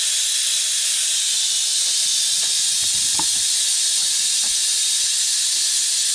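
Steam hisses loudly and steadily from the pressure release of an Instant Pot Duo Crisp, a broad, constant rush that fills the whole span with only faint clicks beneath it.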